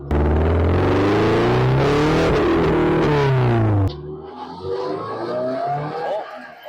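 A Porsche 944 Turbo with a stock turbo accelerates hard on a race track, its loud engine note climbing in pitch through the gears before cutting off abruptly, leaving a quieter rumble and faint tire noise.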